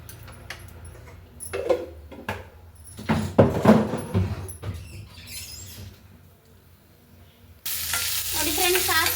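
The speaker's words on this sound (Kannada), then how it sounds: "ಸಾಸಿವೆ ಚಿಟಪಟ ಅಂದಮೇಲೆ" Mustard seeds and chana dal sputter in hot oil for a tempering, with scattered pops and crackles mixed with stirring knocks, a quieter stretch, then a louder burst of sizzling at the end.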